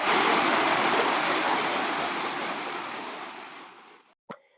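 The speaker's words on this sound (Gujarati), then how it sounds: "જે વોટરફોલ છે ત્યાં માનસ અને ઋતિક જેવો તમે નાહી રહ્યા છે તમે જોઈ શકો છો" Water pouring steadily over the Sukva lake waterfall near Kantrodi, Jesar, Bhavnagar, a loud continuous rushing roar that gradually fades, then cuts off with a brief isolated thump near the end.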